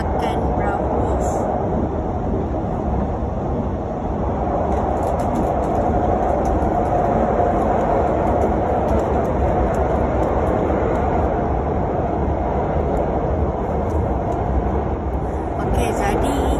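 Passenger ETS train ride toward Bukit Mertajam, heard from inside as a steady, dense rumble and rail roar throughout, with people talking over it.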